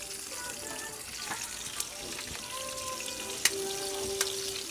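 Garlic, onion and chili sauté in a pan, making a moderate sizzle with a few utensil clicks and scrapes scattered through, and no voices.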